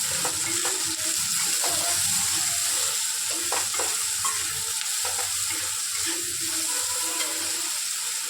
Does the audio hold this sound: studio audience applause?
no